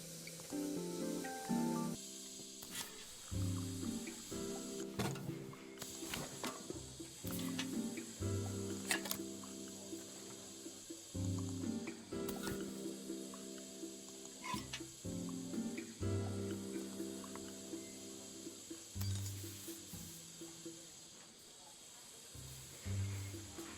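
Steam hisses steadily from leaking pipes in the repair puzzle game Assemble With Care, a continuous airy rush that sits under layered game music and chimes throughout.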